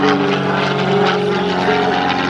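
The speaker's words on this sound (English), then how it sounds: "This airplane isn't put with more on it, which makes it very, very maneuverable." An aerobatic propeller airplane flying loops at an airshow roars loudly and continuously, its engine drone steady and close throughout.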